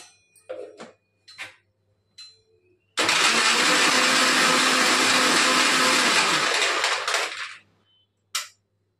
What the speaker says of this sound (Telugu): మిక్సీ చేయటం.